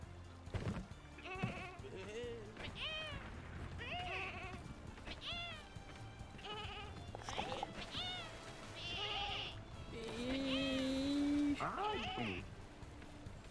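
Cartoonish sheep bleats from the video game Lumberhill, several short wavering calls scattered through the clip over game music and sound effects, with a louder sustained tone near the end.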